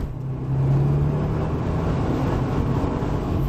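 A 2013 Subaru WRX launching from inside the cabin: a loud, steady low engine roar that rises at about half a second and then holds strong, with no talk.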